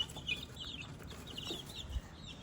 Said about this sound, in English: Just gave some to the chicks.